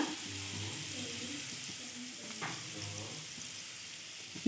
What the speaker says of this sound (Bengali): অপর দিকে আরেকটা কড়াইয়ে দিয়ে দিচ্ছি কিছুটা পরিমাণ সর্ষের তেল। এবার প্রথমেই দিয়ে দিচ্ছি কুচি করে রাখা শুকনো লঙ্কা,